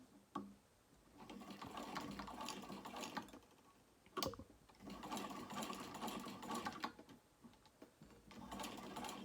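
Close, steady whir of a sewing machine basting a 3/4 inch D-ring tab in place on a small crossbody bag, running in two long stretches broken by a sharp click and short pause.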